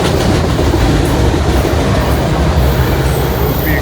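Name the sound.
freight train passing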